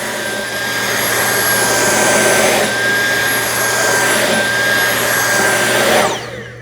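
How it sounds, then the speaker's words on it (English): Dyson V8 cordless vacuum cleaner running on high power: a loud, steady motor whine with a high-pitched tone, sustained for several seconds before abruptly winding down at the end. "This is where I think the Dyson shines. It's like a precision vacuum cleaner."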